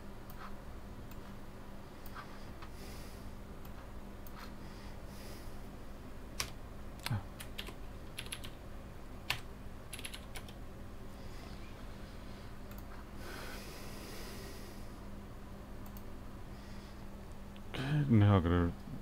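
Keyboard typing on a MacBook during a late-night laptop repair, faint and steady with scattered clicks, under low background hum; a brief louder clatter near the end.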